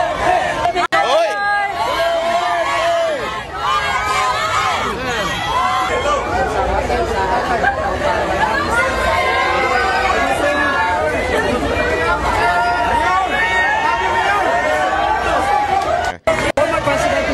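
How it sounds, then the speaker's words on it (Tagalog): A large crowd shouts and cheers loudly and continuously for former President Duterte returning to his city, a dense roar of voices with whoops and chatter throughout. "Saan ka nakakita ng ganyan ng hiyawan ng mga tao pag bumalik ang isang politiko sa kanilang lungsod?"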